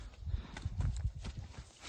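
Hooves of working horses clop in a steady walking rhythm, fairly faint and somewhat distant, with a quiet outdoor background in a village in Ivano-Frankivsk Oblast, Ukraine.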